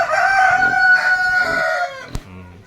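A chicken in a coop set up for an aquaponics system lets out a loud, close, drawn-out crowing call, followed by a sharp knock and a few brief clucks.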